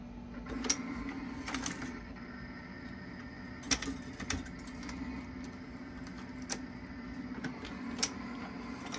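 A Dillon XL 750 reloading press driven by a Mark 7 Autodrive cycles at close range, with a steady motor hum and sharp, evenly spaced mechanical clacks as each stroke indexes, and no voices.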